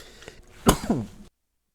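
A single short sneeze from a nearby person in a quiet room, one sharp burst followed by a brief tail that cuts off abruptly.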